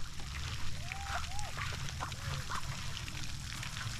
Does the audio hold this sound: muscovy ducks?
yes